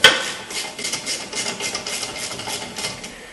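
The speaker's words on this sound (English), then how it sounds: "we're going to loosen up these bolts in the back right here and take those totally out" A socket wrench loosens brake caliper bolts on a 2012-2016 Audi Q5, a quick run of light metallic ratcheting clicks, close and fairly loud after an initial clank.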